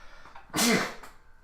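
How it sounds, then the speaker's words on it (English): A single sharp sneeze bursts out loud and close, a forceful explosive blast amid a quiet background. "I'm going to sneeze, I think."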